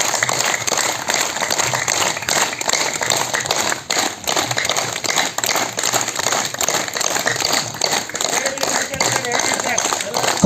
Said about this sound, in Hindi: कम से कम 150 से 200 ताली बजाना अपने को।